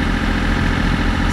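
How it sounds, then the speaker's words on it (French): Sailboat auxiliary engine restarted at sea during a solo Bay of Biscay crossing, running at 1800 rpm, a steady loud low drone with a continuous vibrating throb and no talk. "j'ai rallumé le moteur, il y a juste 1800 tours"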